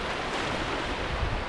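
Strong wind buffets the microphone at the Bluffers Park shore while waves wash in, a dense broadband roar with low gusty thumps, loud and close, with no voices.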